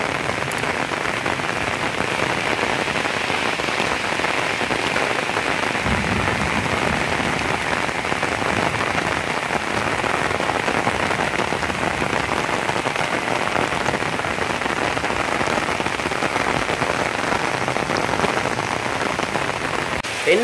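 Heavy rain pours steadily outside a Hindu temple in Jaffna, a dense, loud, unbroken hiss of drops on surfaces lasting throughout with no letup.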